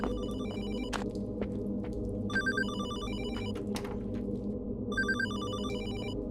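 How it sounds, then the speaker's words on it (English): Telephone bell ringing in a video game, repeated bursts of rapid trilling rings separated by short pauses over a steady low background hum. "Oh, the phone."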